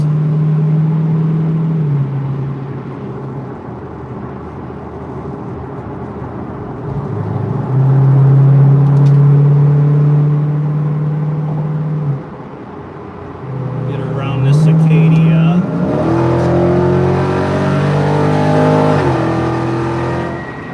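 A car engine accelerates on the drive home, its loud, close drone climbing and dropping through several gear changes, with someone talking over it.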